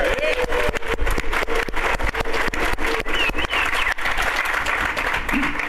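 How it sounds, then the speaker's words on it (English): A convention panel audience applauds continuously, dense clapping close and loud, with voices mixed in underneath. "please, a round of applause to Peter"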